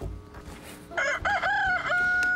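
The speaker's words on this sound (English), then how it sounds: "Cook-a-doodle-doo, says the rooster." A rooster on a farm at daybreak lets out one loud, close cock-a-doodle-doo crow after a moment of faint background sound.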